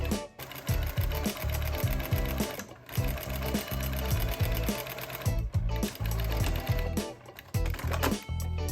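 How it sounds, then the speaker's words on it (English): A sewing machine stitches a jacket collar with a steady, rapid mechanical chatter, close and loud, running almost continuously with a few short pauses and no talking. "send it through the machine again"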